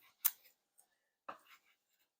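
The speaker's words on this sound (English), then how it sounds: "I'm going to cut up this bratwurst and add it to the fried onions." Bratwurst being cut up for a pan of fried onions, in two quick sharp slicing strokes about a second apart, close and fairly quiet with silence between.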